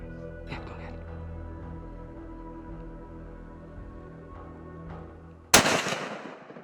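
A single loud, close rifle gunshot cracks out during an outdoor hunt for wounded veterans, a sharp broadband blast followed by a short decaying tail, after several seconds of quiet outdoor ambience with faint low hum.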